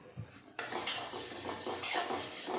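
Sesame seeds roast in a dry pan while a spoon scrapes and stirs them, a soft continuous rustling crackle with small irregular scrapes, close and fairly quiet.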